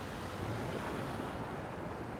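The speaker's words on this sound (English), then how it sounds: "can you still hear the water?" Steady wash of beach surf at sunrise, a continuous broadband roar of waves with some wind rumble, moderately loud and unbroken, with no voices.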